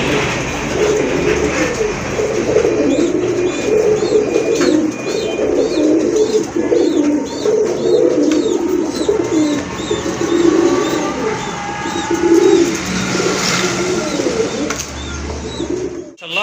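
Pair of large brown pigeons cooing repeatedly in soft rolling bursts, fairly close, over a low steady background murmur.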